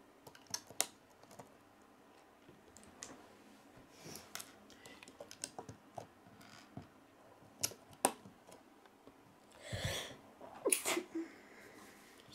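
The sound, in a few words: sneeze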